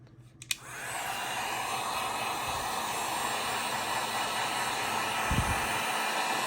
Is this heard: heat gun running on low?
yes